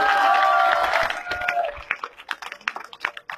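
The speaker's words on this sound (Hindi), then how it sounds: "जोरदार ताली बजाएंगे डॉक्टर साहब" Applause and cheering from a crowd at a political rally in Jaipur for Dr. Kirodi Lal Meena, a loud burst of claps fading into scattered individual claps, with some voices mixed in at the start.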